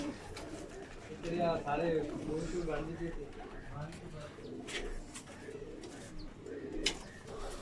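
Pigeons, including prized Multani birds, cooing softly amid a flock, with low throaty coos and occasional chirps under someone talking nearby.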